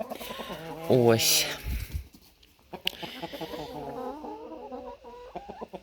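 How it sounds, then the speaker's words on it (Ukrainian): Chickens cluck and call in short bursts around a person talking, with scattered rustling and movement nearby. "Так, кури біжать, прибігли деякі."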